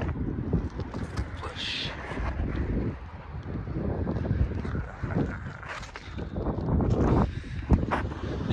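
Strong gusty wind blusters across a roof ridge during roofing work, buffeting the microphone with loud, uneven rushes that rise and fall continuously.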